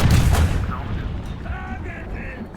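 A tank cannon shot striking a light tank in the War Thunder video game: a loud booming impact at the start that decays into a rumbling tail, with faint game noise after.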